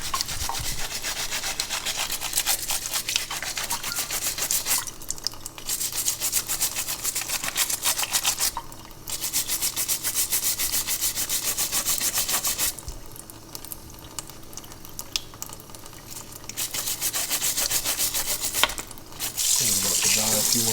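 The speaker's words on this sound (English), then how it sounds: "Go scrub it up and see how it turns out." Wire brush scrubbing a freshly melted scrap gold bar, with continuous rough, rasping strokes broken by brief pauses. Running water sounds underneath, and it is close and steady throughout.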